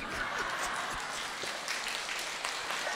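Audience clapping during a Vietnamese talk, a dense steady wash of many hands at moderate, even loudness throughout, with faint crowd murmur underneath.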